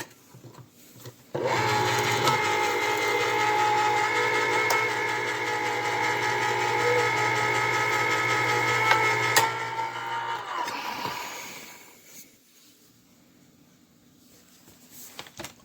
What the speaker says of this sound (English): The last can I have, the clam chowder. Time to open that one.